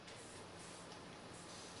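In PowerWash Simulator, a pressure washer sprays in a continuous hissing rush of broadband water noise, very quiet and steady throughout the short burst with no voices.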